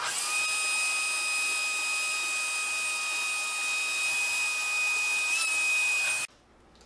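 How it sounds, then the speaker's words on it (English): A vacuum cleaner runs steadily over model railroad track, a loud, constant whine with a high tone, drawing dirt off the surface before cutting off abruptly near the end. "First step, vacuum the surface. We want to get all the dirt out of there that we can."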